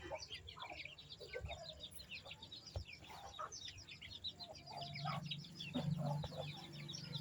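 A Bhimavaram breed hen clucks softly and repeatedly while her four chicks, about six weeks old, peep in high chirps, fairly faint with a low hum underneath.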